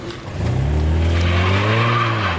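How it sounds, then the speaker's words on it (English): A 1992 Mercedes-Benz 300E W124 accelerates hard from a launch, its engine note climbing steadily and loudly over about two seconds, close by, with a rough tire-scrabbling hiss underneath. "You get on it too much, it'll peel right out."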